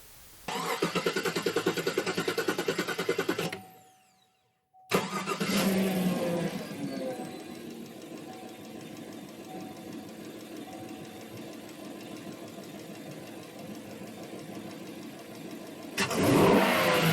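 A car engine runs during an in-cylinder pressure test, first as a steady idle hum, then cut by a brief silence before it starts again and settles into a lower, even idle, rising louder near the end.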